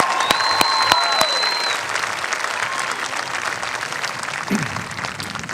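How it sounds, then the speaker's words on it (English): A graduation audience applauds the class of 2018 at a school ceremony, loud sustained clapping from a large crowd with a few sharp nearby claps and brief whistles, steady throughout. "we can definitely clap for the graduates"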